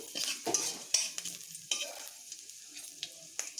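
Green chilies and panch phoron frying in hot oil in a karai, a steady close sizzle broken by several sharp spoon scrapes and stirring knocks, with no talking.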